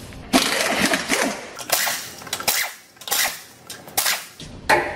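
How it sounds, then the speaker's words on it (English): Bursts of ratcheting and rapid mechanical rattling from a 22 mm socket on an impact tool spinning off wheel lug nuts on a larger Toyota, several loud runs separated by short pauses. "now I've got my 22 millimeter socket to remove these wheels"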